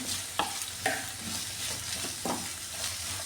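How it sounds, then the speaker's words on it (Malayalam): Onions, chillies and curry leaves sautéing in a pan for a raw banana thoran, a steady close sizzle with a few sharp stirring scrapes of the spoon. "എല്ലാം കൂടെ നന്നായി ഒന്ന് വഴറ്റിയെടുക്കാമേ"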